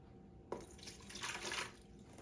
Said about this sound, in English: So I'm going to go ahead and pour this into the pitcher.